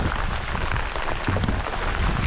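Steady rain falls on the Mississippi River near La Crosse, Wisconsin, during a fishing tournament, a dense even hiss of drops on water and surfaces with no talk.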